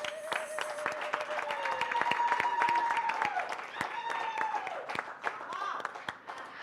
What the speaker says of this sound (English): Let's give the Premier and the Minister a round of applause.